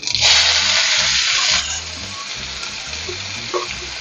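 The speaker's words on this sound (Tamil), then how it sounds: "எல்லாம் வதங்கட்டும் நல்லா" Mustard seeds, garlic, onion and curry leaves sauté in hot oil, giving a loud, steady broadband sizzle that flares sharply at first, eases after a second and a half, then crackles on at a lower level with a few small pops.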